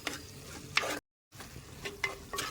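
Tomato dropped into sautéed onions frying in a pan for a Kerala-style roasted-coconut chicken curry, with a steady sizzle, a brief silent gap, then scraping stirs and renewed crackling up close.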